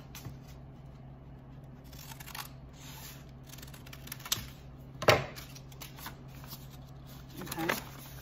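Handbag material is cut with scissors, giving a few quiet, scattered snips and crisp slicing sounds near the end against faint room hum.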